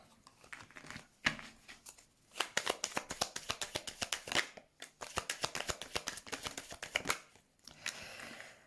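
A deck of tarot cards is shuffled by hand, rapid riffling flutters and soft slaps in uneven bursts, quiet and close with no talk.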